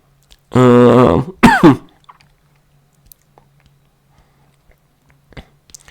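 Two short bursts of harsh, voiced coughing close by, followed by quiet with faint small clicks.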